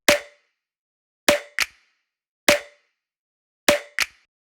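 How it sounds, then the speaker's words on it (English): A layered studio snare built from a snap and a second snare sounds six times in a loose pattern, some hits paired closely, each crisp and bright with a short decay, alone and moderately loud. "It's just a snap and another Grey snare combined."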